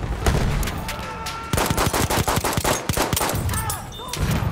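Rapid pistol fire from the Hellriegel-era Battlefield 1 multiplayer match, a dense run of sharp, loud cracks in quick succession with short pauses, close and dominant throughout.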